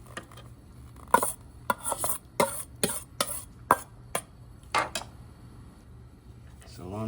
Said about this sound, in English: Add our corn.